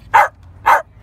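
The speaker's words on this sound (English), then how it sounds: "Stop barking now, boy." A dog barks twice in quick succession, two short, loud, close barks about half a second apart with quiet in between.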